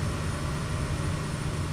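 Brief stretch of a simulated turboprop airplane engine from Microsoft Flight Simulator, a constant droning roar with strong low-end rumble and an airy hiss, even and uninterrupted.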